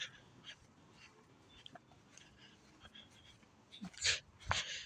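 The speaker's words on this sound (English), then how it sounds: "I don't know whose dog keeps barking." A dog barks a few times, sharp and somewhat distant, the barks growing louder near the end over a quiet background.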